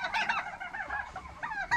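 Geese and turkeys at an egg-laying farm calling together, a busy overlapping chorus of honks, clucks and gobbles from close by, steady through the short stretch with no talk.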